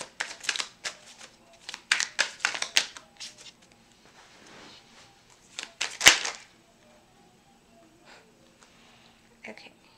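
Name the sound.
shuffling tarot cards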